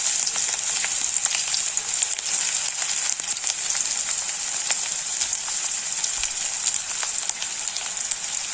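Chopped onions with a small bay leaf fry in hot oil, giving a loud, steady, close sizzle with crackling spatter and no talking.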